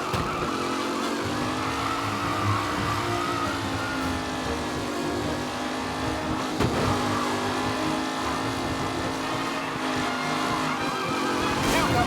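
Race cars in a Mafia Definitive Edition race roar with a sustained engine note while tires squeal and skid under hard cornering. The sound is loud and continuous, with brief bumps and shifts in pitch.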